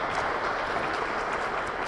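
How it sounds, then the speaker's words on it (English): Applause from an audience at a State House speaking event, a dense broadband clatter of many hands clapping steadily for the whole two seconds with no talking over it. "So let's give them a round of applause."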